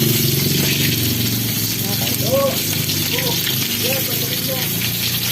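Food sizzling and frying in a hot pan while being turned over, a steady loud crackle and hiss with occasional clatter, under a person talking and faint background noise.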